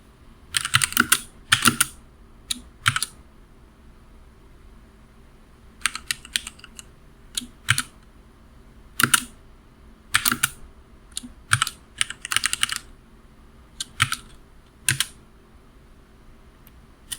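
Typing on a computer keyboard while working in a Python interpreter, in irregular bursts of close, crisp key clicks separated by short pauses, with no voices.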